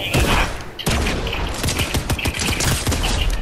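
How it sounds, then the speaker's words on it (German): Pump shotgun blasts in a video game, loud and dense, overlapping into a heavy burst of gunfire with a sharp break near the start, then continuing as a rapid, crowded run of booming shots. "schieß mit Pump"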